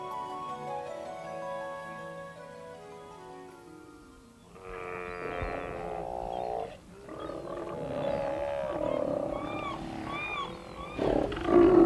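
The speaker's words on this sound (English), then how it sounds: "Another summer visitor to Glacier Bay is the Steller sea lion." Steller sea lions call at a noisy haul-out in Glacier Bay, Alaska, with deep roaring, bellowing and groaning calls that overlap and grow louder toward the end, following a stretch of sustained tonal sound at the start.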